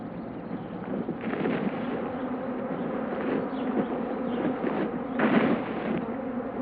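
A dense, continuous buzzing of many bees over an alfalfa field fills the air, steady and close, with no voices.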